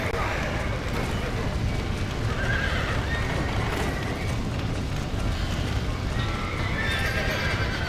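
Horse from the video game Red Dead Redemption neighs and whinnies over continuous clip-clopping hooves, loud and close, with a game soundscape underneath.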